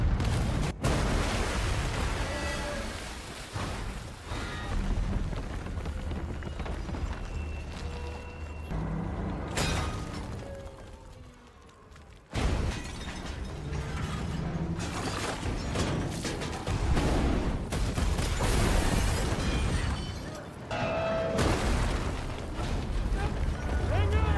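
Loud, dense rumbling blasts of bombs exploding and crashing debris on a train in a Mission: Impossible film, with metallic clanks and brief voices in a chaotic, continuous stretch.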